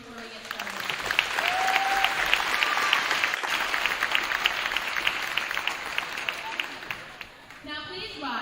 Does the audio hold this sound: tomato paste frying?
no